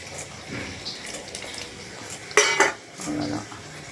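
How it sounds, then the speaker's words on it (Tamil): Tamarind water is poured into a pot of capsicum sambar and stirred, giving a short run of liquid splashing and metal clinks of ladle against pot, with one louder clatter near the middle. "இப்போ வந்து நம்ம புளி தண்ணி ஊற்றிடலாம்."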